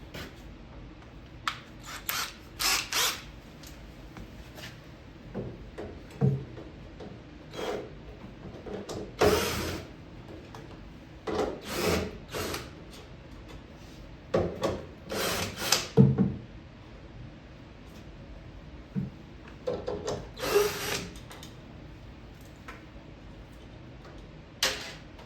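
A right-angle drill with a Phillips bit drives screws into a wooden pinball cabinet, heard as scattered short bursts of whirring and clicking separated by quiet gaps, close by with no talk.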